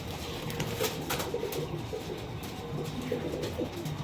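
Pigeons of a high-flying breed, golden-necked and closed-tailed, coo in low soft murmurs at a Krishnanagar home loft, a continuous near chorus with faint higher chirps over steady background noise.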